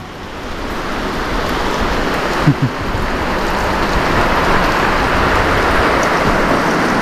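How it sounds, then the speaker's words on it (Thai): Steady rain pours down in a continuous broad hiss, with a brief faint knock partway through. "ตกตลอดนะฝนเนาะ"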